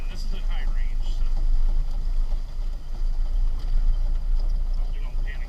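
A 1948 Willys CJ-2A with its low-revving four-cylinder engine drones steadily in high range, a deep rumble with wind and road noise from inside the open vehicle, no one speaking.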